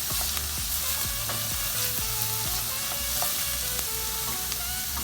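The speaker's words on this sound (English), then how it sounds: "I'm just gonna saute until everything is soft." Vegetables including scallion sautéing in a pan for a Jamaican ackee dish, a steady close sizzle and fry with repeated utensil taps and stirring scrapes throughout, no talk.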